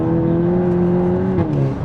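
450 bhp MK8 Golf GTI engine pulling hard under throttle, a loud, steady rising drone heard from inside the car that dips briefly at a gear change before climbing again, with no talking.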